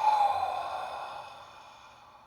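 A slow, audible exhale during a guided meditation breathing exercise, a soft breathy rush that starts close and fairly strong and then fades steadily, heard alone without talk.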